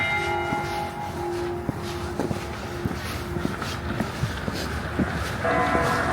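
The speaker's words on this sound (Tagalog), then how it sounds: "Yun na yung familiar na bell." A church bell rings in Iceland, its repeated struck tones sounding at a moderate distance over outdoor ambience with footsteps and faint background noise, and no one speaking.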